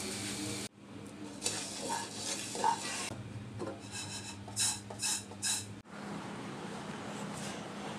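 Flattened rice (chira) is pan-fried in a little soybean oil until crisp, heard as a steady, close scraping and rustling of stirring over a soft sizzle, with brief abrupt breaks.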